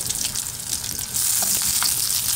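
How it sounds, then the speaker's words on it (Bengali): Ready-made chicken nuggets fry in hot oil with a steady, close crackling sizzle that grows denser partway through, broken by a few small pops. "রেডিমেড নাগেটস মার্কেট থেকে আনা হয়েছে, এগুলো শুধু তেলে ভাজবো"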